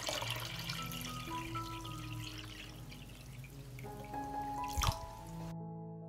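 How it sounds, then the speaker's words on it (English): Tap water running and pouring steadily into a pot holding jars for pasteurizing, a continuous close splashing stream that cuts off near the end. "I will pour water into the pot up to the height of the lid."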